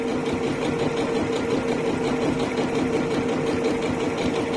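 A Janome sewing machine stitches a seam from top to bottom in a continuous, even mechanical whir and hum that stays close and steady with no pauses.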